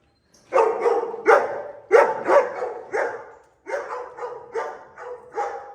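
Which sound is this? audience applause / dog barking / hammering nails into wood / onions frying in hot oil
dog barking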